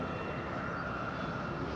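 An EasyJet airliner starting up for pushback at Madeira airport gives off a steady, loud broadband engine roar that holds constant throughout, with no talking.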